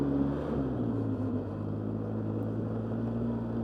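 A Polaris Sportsman quad ATV engine idling nearby, a steady low rumbling drone with an even tone, holding constant throughout with no talk.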